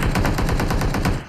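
Automatic gunfire in PUBG on the snowy Vikendi map rattles in a loud, rapid burst of about a dozen evenly spaced shots, close and alone, cutting off abruptly at the end.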